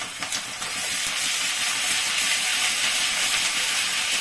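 Onion and garlic paste dropped into hot oil in a pan for egg rezala, a loud, steady sizzling hiss that starts with a few pops and settles into continuous frying.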